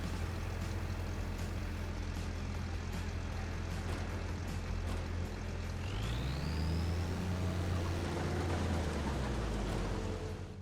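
A combine harvester in Farming Simulator 25 drives along with a steady, low engine rumble, joined partway through by a rising whine and a shifting tone, with no voices over it.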